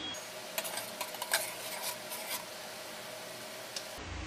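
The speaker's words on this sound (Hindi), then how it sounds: "अब हम एक बार फिर से चलाएंगे।" A spoon stirs rice kheer with raisins, cashews, almonds and chironji in a pressure cooker over a low gas flame, making soft scraping and rubbing strokes with a few light metallic clinks, close and quiet over a faint hiss.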